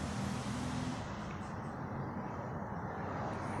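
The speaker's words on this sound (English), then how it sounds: "you probably hear a lot of cars and stuff go by" Cars pass along a residential street outside, a steady broad roadway rumble and hiss that stays fairly faint and continuous with no distinct pass-bys or talk.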